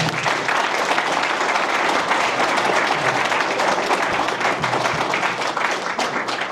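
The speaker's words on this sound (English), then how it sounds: "let's give him a round of applause" A crowd at a 2025 city council and mayoral candidate forum applauds a candidate, with steady, dense clapping that stays loud and even from start to finish.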